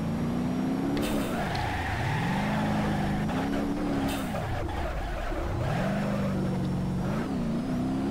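A car drifts in the BeamNG.drive driving game: a loud, close engine rises and falls in sweeping revs, with tire squeal hissing through the slides, and no one speaks.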